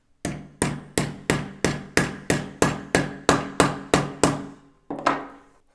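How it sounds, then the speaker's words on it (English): A hammer drives a T-nut into a hole, giving about a dozen sharp, evenly spaced strikes at a steady rhythm, loud and close, with a short pause before a final blow. "Then I'm going to take a hammer and I'm just going to hammer it in."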